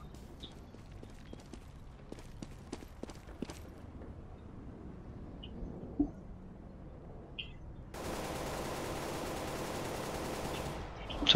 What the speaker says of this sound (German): So viele Schüsse.